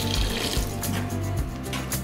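Water pours steadily and forcefully into a bucket while mixing concrete, a loud, continuous splashing gush close by.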